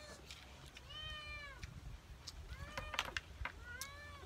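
Cat meowing outdoors during a meal, three drawn-out meows with faint clatter and background noise between them.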